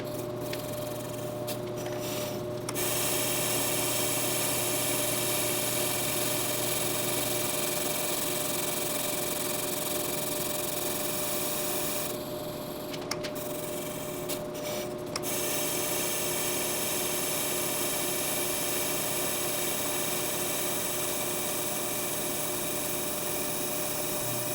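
Ammco brake lathe cutting a brake rotor in a shop, a steady mechanical hum with a constant tonal whine running throughout, occasional brief clicks, no talking.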